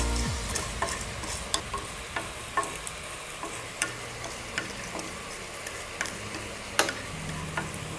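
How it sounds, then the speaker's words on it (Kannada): Whole spices (cinnamon, cumin, cardamom pods, sesame seeds and coriander seeds) fry in a pan for a chicken masala, giving a soft steady crackle broken by sharp, scattered ticks and clicks of stirring throughout. "ಇಷ್ಟನ್ನು ಸ್ವಲ್ಪ ಫ್ರೈ ಮಾಡ್ಕೊತೀನಿ."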